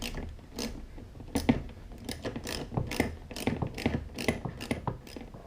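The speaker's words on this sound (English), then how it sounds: "I'm using a universal drive with a 12mm socket to push the bolt back through the frame" A ratchet with a universal drive and 12mm socket clicks in quick, repeated bursts as it turns a trailer-hitch bolt on a Honda Goldwing frame, close and fairly quiet with no talk.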